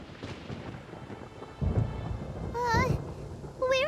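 Thunderstorm in the video game Genshin Impact, with steady rain and low rumbling thunder swelling midway, a few whistling tonal effects over the top.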